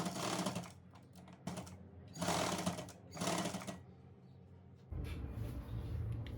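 A sewing machine stitching salwar fabric, running in several short whirring bursts with pauses between them, fairly close and steady, and no one talking.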